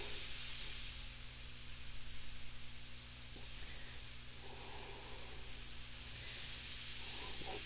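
An airbrush hisses steadily as it sprays paint through skull stencils, a soft continuous airy spray with brief pauses and a faint low hum underneath.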